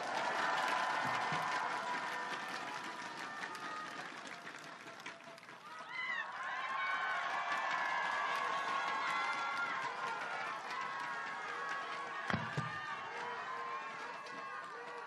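At a packed Daegu campaign rally for Lee Jae-myung, a big outdoor crowd keeps up steady applause and cheering for the whole stretch, with voices and shouts rising through the noise.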